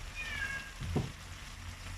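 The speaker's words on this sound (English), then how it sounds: "The sound at the background is one of my cats." Miku, a hungry pet cat, lets out a single meow partway through, against a steady kitchen background while spaghetti alla bolognese cooks.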